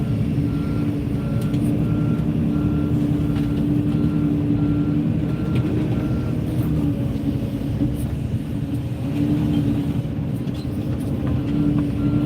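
A Kenworth truck pulls up near an excavator with a steady, loud diesel rumble, and its repeating reversing beeps sound clearly and continuously throughout.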